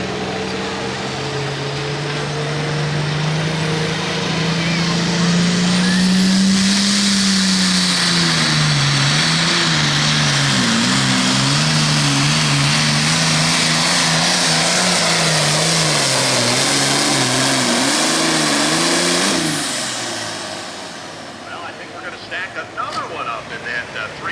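A John Deere 8345R tractor at a Pro Pulling League pull in Hillsboro, Wisconsin, 9,300 lb class, roars loud and close, its engine note climbing and wavering through a long pull of about fifteen seconds before cutting off, with an announcer talking over it.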